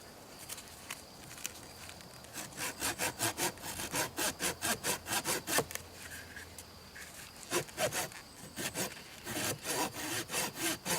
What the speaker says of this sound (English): The sawing action is not very smooth at all.